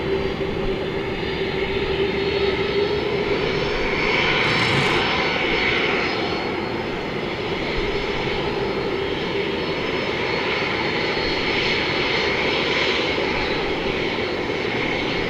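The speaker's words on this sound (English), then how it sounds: "So here we go, an almost brand new MD-11, 25 years old." Engines of an MD-11 jet airliner at DFW Airport produce a steady, loud, sustained roar with a whining tone throughout, heard alone without voices.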